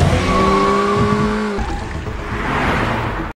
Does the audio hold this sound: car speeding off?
yes